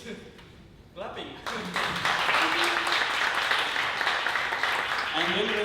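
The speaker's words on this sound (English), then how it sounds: "Clapping." Audience applause in a lecture room during a hands-on cryptography workshop, rising from scattered claps to steady clapping of moderate loudness, with voices talking over it.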